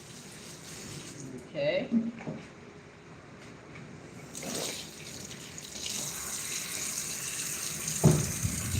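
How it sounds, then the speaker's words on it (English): Hands washed under running kitchen tap water during a home cooking class, a steady broad rush of flow with brief splashes, while people talk over it. "Hand washing, super important."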